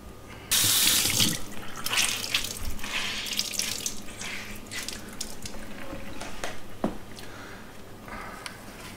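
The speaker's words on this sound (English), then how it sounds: "I've scrubbed it and rinsed it 3 times now" Water rushes steadily from a tap over a concrete countertop being rinsed clean of debris before patching air bubble voids, a loud continuous splashing with brief gurgles, close by and with no talking.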